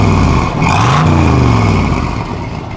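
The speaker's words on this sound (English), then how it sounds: "love the side exhaust. A little rev, Nathan." A 1966 Chevrolet Corvette roadster engine with side exhaust revs up and settles, a loud, close, rumbling blip that rises in pitch around the one-second mark and then eases back to a steady idle.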